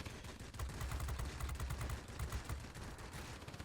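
Aircraft machine-gun fire from a P-61 in World of Warplanes, rapid bursts rattling almost nonstop, with a dense crackle over a low rumble and no voices.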